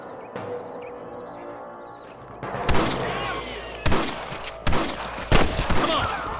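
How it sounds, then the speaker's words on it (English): Gunfire in the Red Dead Redemption video game: a dense burst of sharp, loud shots and crackling volleys, close and punchy, starting after a quieter opening, with voices shouting between the shots. "Let's shoot him, boy!"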